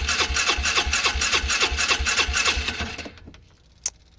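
A Polaris Ranger 500 EFI with a stumbling, misfiring idle cranks over in a rapid rhythmic chugging of about a dozen strokes, then dies away into quiet with a faint click near the end.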